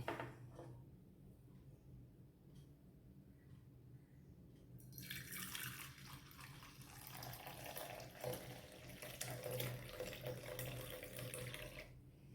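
Milk poured from a height into a bowl holding sour curd starter, a steady liquid splashing stream beginning partway through after quieter stirring sounds, continuing near and fairly loud to the end.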